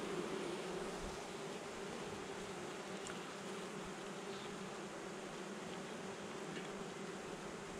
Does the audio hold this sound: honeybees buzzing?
yes